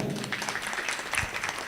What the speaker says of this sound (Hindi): दोनों के लिए जोरदार से तालियां।